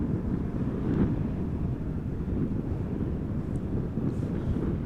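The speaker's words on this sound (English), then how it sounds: "Delta Airlines Flight 136, Airbus A330-300 arriving from Detroit." Delta Airbus A330-300 airliner arriving at Amsterdam Schiphol in crosswind conditions, a distant low jet rumble blended with gusty wind noise buffeting the microphone, steady with no speech.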